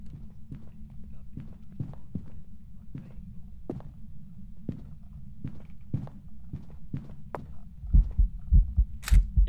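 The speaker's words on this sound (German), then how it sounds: "Ich sterbe, ich habe Herzschlag." Steady, muffled low thumping of a heartbeat from the horror ghost-hunting game Phasmophobia, repeating at an even pace over a faint low hum and growing louder and heavier toward the end.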